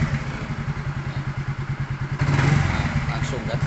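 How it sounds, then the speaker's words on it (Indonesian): A 2014 Yamaha Mio GT scooter engine with power loss and smoking, idling with a steady pulsing beat, then revved to a higher, louder pitch close by, under someone talking. "dan ini kita coba digas, lebih respon ya"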